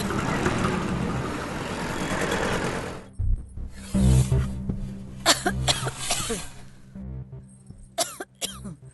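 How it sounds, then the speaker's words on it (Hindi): A woman with a cough that will not go away, heard in a dramatized home scene: after a stretch of broadband noise, a series of harsh, close coughs and throat-clearing bursts come in irregular clusters, with some voice between them. "बस डॉक्टर साहब, खांसी ठीक ही नहीं हो रही है"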